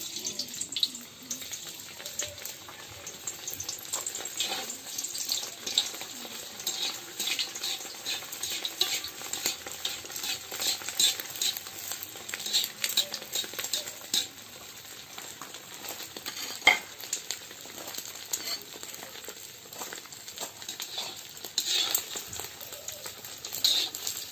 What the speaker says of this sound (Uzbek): Buni qizartirib qovurib olamiz.